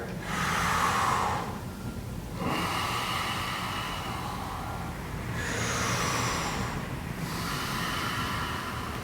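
Slow, deep breaths are taken during a hamstring stretch, with two or three long inhale-exhale cycles that sound close and airy. No one talks over them.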